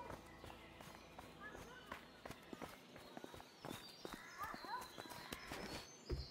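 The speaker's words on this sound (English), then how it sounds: "Two horses." Two horses in the video game A Way Out, a run of clip-clop hoofbeats at a walking pace, fairly close, with people talking over them.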